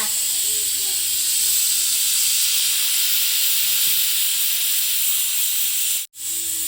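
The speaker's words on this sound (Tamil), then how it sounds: "குக்கர் விசில் வந்துச்சுங்க" A pressure cooker whistling while cooking mutton bone biryani: a loud, continuous, high steam hiss that runs nearly the whole time, then cuts out abruptly for a moment near the end.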